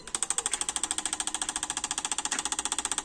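An Autool CT150 injector cleaner in acceleration mode fires Eclipse GSX fuel injectors in a rapid, steady train of sharp mechanical clicks. The clicking is evenly spaced, close and continuous, with no talking.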